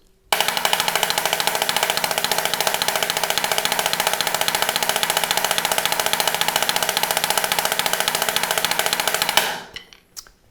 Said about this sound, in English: we're doing the long open stroke roll.